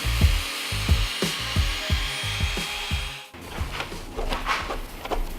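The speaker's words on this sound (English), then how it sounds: "with this drill, when you're moving around and it's spinning, it's really hard to control" A handheld drill spins sandpaper against a scratched plastic car tail light, giving a rapid series of rhythmic scraping strokes followed by a rougher, continuous grinding rub, close up.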